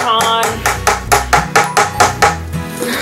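A hammer strikes a plaster Star Wars chip-away toy set about ten times in quick, sharp, evenly spaced taps that sound close and loud, with some speech and background sound around the blows.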